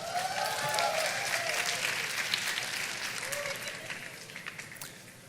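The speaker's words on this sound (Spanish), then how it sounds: "Ese aplauso creo que me dice que es un buen concepto." Applause from an audience at a gastronomy conference talk, a dense crackle of many clapping hands that swells early and then slowly thins and fades, with a few voices calling out over it.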